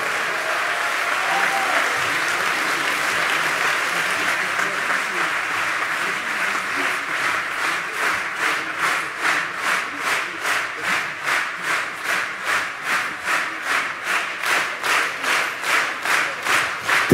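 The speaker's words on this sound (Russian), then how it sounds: "Это искренние аплодисменты сегодняшнего зала." A concert hall audience at a Krasnodar Philharmonic orchestra concert gives loud, dense applause that gradually turns into steady rhythmic clapping in unison.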